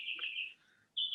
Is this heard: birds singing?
yes